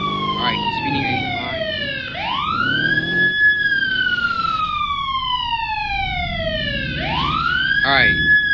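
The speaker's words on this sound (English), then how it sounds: "Why don't I turn my siren?" A police car siren in the Roblox game Southwest Florida wails in long rising and falling sweeps over steady road rumble, loud and close throughout.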